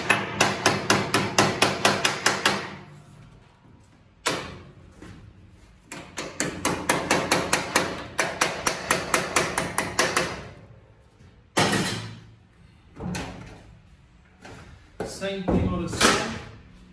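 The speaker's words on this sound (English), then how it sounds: "and I'm just gonna hammer this corner a little bit." A hammer striking a sheet metal corner on a bending brake, in rapid bursts of loud metallic blows, several quick strikes per group with short pauses between groups.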